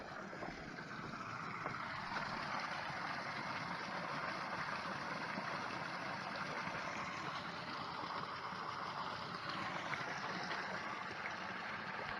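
A small waterfall in Missouri's Pickle Springs Natural Area gives off a steady rushing wash of water, broad and constant from start to end, with a slight breezy edge.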